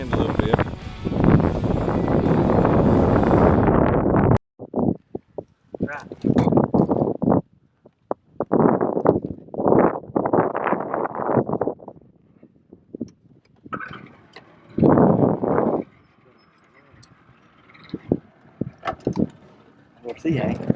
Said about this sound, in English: Just try to get out of this wind a little bit.